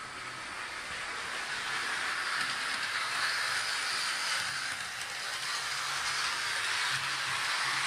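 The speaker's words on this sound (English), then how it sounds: "You can have one engine going forward while the other engine sits idling there." An HO scale model train locomotive running under DCC control produces a steady soft hissing whir with faint clicking, continuous and fairly quiet throughout.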